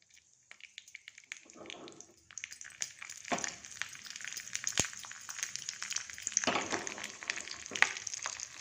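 Nuts and raisins frying in ghee, a steady crackling sizzle with scattered pops and stirring scrapes, close up and moderately quiet.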